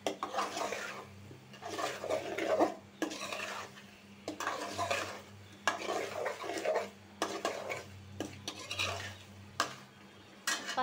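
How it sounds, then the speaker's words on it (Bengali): Taro curry being sautéed and stirred in a pan, a spoon scraping and clinking against the metal in steady repeated strokes over a soft frying sizzle, close and moderately loud with no talking. "এখন কষায় নিব।"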